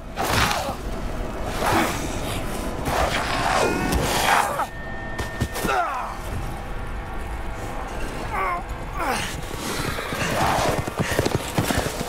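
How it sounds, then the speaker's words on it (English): Horses gallop in the video game Resident Evil Village, with rapid clip-clop hoofbeats, whooshing movement and a brief whinny, loud and close amid game effects, while a person's voice is heard alongside. "Oh, they ride horses now."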